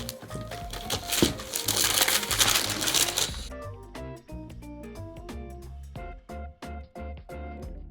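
Crinkly packaging being unwrapped from a Winegan Designs Eleganza Italiana Collection order, a dense close crumpling for about three seconds that then thins into sparse crackles and taps.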